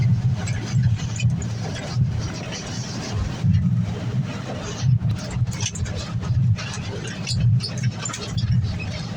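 A Peterbilt truck with a 15-speed gearbox cruises toward a downshift, its diesel engine giving a steady, close, low rumbling drone with slight swells and some wind noise throughout.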